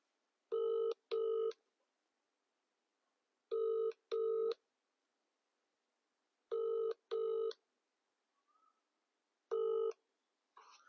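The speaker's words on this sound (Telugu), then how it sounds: "సో దీనిపై మరియు కూనమనేని సాంబశివరావును ఒకసారి ఫోన్ చేసి కనుక్కుందాం." A telephone call ringing on the line: four evenly spaced double rings, each a pair of short tonal bursts, clean and steady against silence, with a faint blip near the end.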